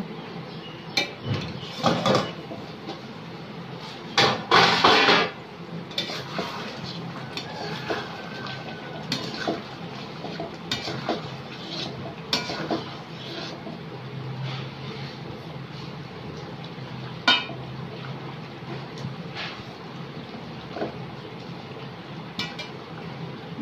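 Chicken being stirred and sautéed in a pan, with repeated scraping and clinking of a spoon against metal over a faint, soft sizzle, the strokes irregular and close by.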